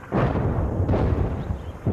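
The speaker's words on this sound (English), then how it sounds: "an airstrike begins and watch explosions lighting up the horizon" Airstrike explosions rumbling across the horizon in two heavy, low booms with long rolling decay, the second arriving just under a second after the first and a third starting at the end.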